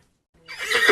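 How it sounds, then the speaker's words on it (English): A horse neighs, the sound rising sharply out of silence into a loud, bright whinny that fills the short moment, heard alone. "There are horses on the farm. None of them can sing. They only neigh."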